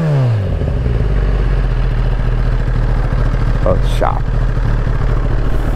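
A Kawasaki ZX10R sportbike, rated at 207 bhp, idles close by with a steady, loud, rumbling engine drone that holds throughout after a brief start, a short word spoken over it.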